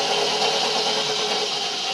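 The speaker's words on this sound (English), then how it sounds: "That engine is rocking." Engine of a machine hauling logs during backyard tree removal runs steadily and loudly up close, a continuous mid-pitched drone with no breaks and no voices.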